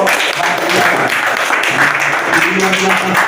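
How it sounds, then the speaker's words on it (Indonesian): A classroom audience claps for a student group that has just performed a role-play. A steady patter of applause runs throughout with voices talking over it. "tepuk tangan dulu untuk kelompok bahagia"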